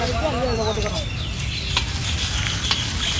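Mustard seeds and chillies sizzling in oil while being stirred in a pan at a village temple feast, close crackling and spattering with scraping stirs and faint birdsong early on.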